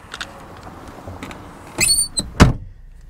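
A Volkswagen Golf Mk6 car door swings with a short high squeak, then shuts with a solid thump, close by in an otherwise quiet space.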